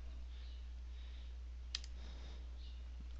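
Computer mouse clicking while editing a WordPress page: a quick double click, close but quiet, over a faint steady hum with no talk.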